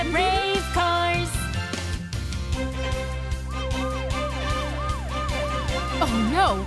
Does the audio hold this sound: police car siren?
yes